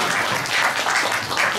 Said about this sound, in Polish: proszę Was o brawa dla nich, że tak świetnie wystąpili